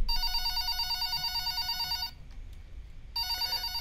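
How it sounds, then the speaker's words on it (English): A telephone rings in a video game, a bright electronic bell ringing steadily, cutting off for about a second, then starting again, loud and close with no talking. "Phone's ringing."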